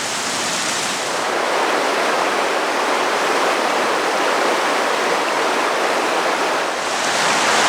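Steady rushing water, like a stream or small waterfall, fills the clip with a constant broad hiss at even loudness throughout.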